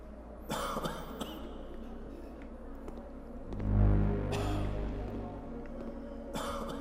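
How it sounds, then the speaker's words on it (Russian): A character in the video game The Shattering coughs in a few scattered bursts, with a deeper, heavier cough in the middle, heard quietly and close against a low background hum. "Да хорош кашлять-то, ну."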